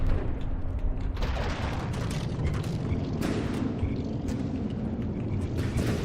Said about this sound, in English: Oh no! Internal explosions!